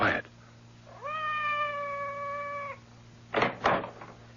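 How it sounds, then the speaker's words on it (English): A cat meows outside a door in one long, clear, drawn-out cry, followed moments later by a couple of short knocks or bumps; the scene is otherwise quiet with a low steady hum. "It sounded like Madame's cat, Francois."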